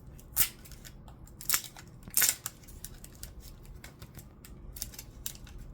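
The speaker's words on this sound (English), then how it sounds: "just trying to get the sticker sheet to come out of the package" Sticker sheet being pulled out of its plastic package: a few sharp crinkling snaps, then softer intermittent rustling and crackling, close and quiet.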